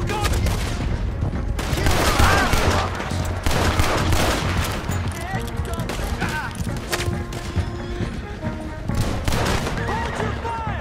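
Heavy gunfire in a combat scene, rapid bursts and single shots cracking loud and close in dense, continuous volleys, with shouted voices mixed in.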